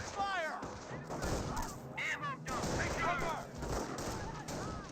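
Sniper rifle fire crackles through a Company of Heroes 1 multiplayer battle between US and Wehrmacht forces, with sharp shots popping amid busy combat noise under continuous spoken commentary.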